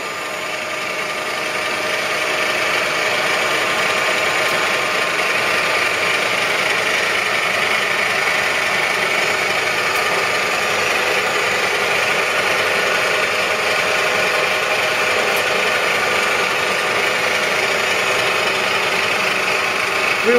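Union BFT125/5 horizontal boring and facing machine with its head travelling upward, a steady broadband mechanical hum and drone that holds at an even level for the whole stretch, close by and without speech.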